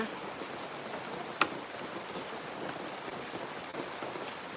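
Soft, steady patter of rain falling, fairly faint and continuous, with one sharp drip or tap standing out early on.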